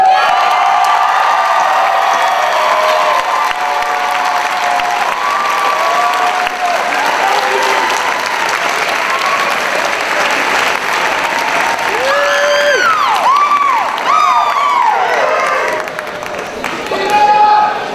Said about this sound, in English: give a round of applause to all the people that helped make this possible